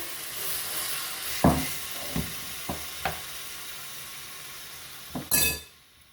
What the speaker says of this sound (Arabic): وفي المقله عملت شويه د الزيت المائده وغادي نعمل الدجاج ديالي يتقلاو